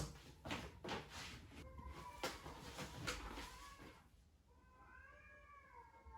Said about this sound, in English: there are like cats meowing outside my room